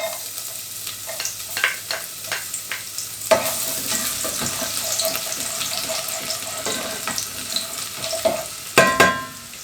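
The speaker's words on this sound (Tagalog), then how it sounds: "Pinapainit na natin ng mantika. At dahil kanina pa yan, kaya una na natin ilagay ang bawang." Garlic drops into hot cooking oil in a casserole pan and sizzles steadily after a sharp onset, with scattered clinks and stirring scrapes over the frying hiss.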